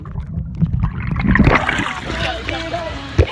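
Water splashes and gurgles as a phone dips under the surface of a lazy river at a waterpark, muffled sloshing rising and falling with a sharp splash near the end.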